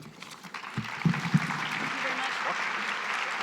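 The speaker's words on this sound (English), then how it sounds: "thank you for the round of applause" Applause from a summit audience, starting thin and swelling into a steady moderate clapping, with a few louder claps and voices murmuring underneath.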